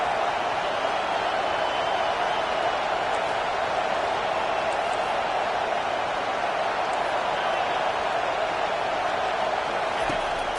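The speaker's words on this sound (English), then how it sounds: "Decibels rising as the crowd gets behind this defense on third down" Steady roar of a football stadium crowd cheering on third down, loud and continuous throughout with no break or swell.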